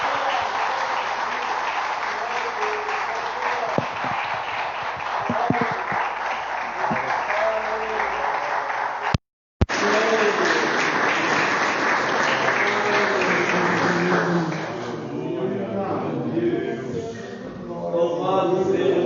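Sustained applause from a church congregation during a Pentecostal online worship service, dense clapping filling the space with a brief gap near the middle, then thinning toward the end as a voice begins speaking.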